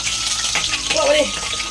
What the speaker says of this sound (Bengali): মাছের মাথা ভাজছি